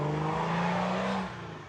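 A tuned car drives past in a French village, its engine note loud and steady, then dropping in pitch as it moves away, with no talk over it.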